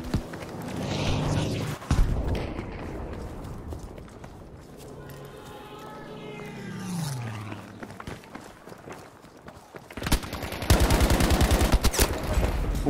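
Gunfire in the video game Battlefield V, with sharp broadband bursts that cluster at the start and return loudest near the end, and a quieter stretch of other game sounds in between.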